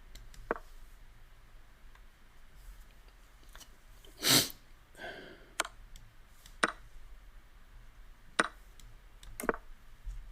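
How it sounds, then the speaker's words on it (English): A single close, sharp sneeze bursts out once amid faint scattered clicks and ticks in an otherwise quiet room. "I feel like I'm going to sneeze."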